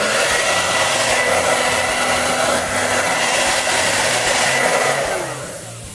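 A heat gun blows steadily at close range over a Mossy Oak camouflage vinyl wrap being fitted to a shotgun, a loud continuous whooshing roar that holds for about five seconds before tapering down.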